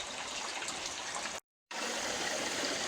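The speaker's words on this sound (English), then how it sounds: "I'm gonna put the pumps to work and just have them pump side to side" Pumps push water side to side in a swimming pool converted into a fish pond, giving a steady, loud, rushing stream of water with a brief silent dropout midway.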